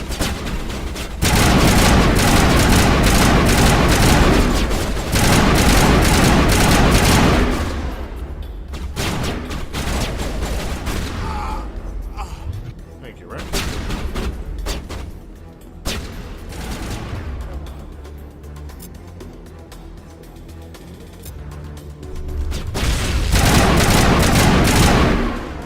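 Heavy gunfire in Mass Effect: Legendary Edition comes in loud, dense bursts at the start and end, with sparser shots and quieter stretches in between.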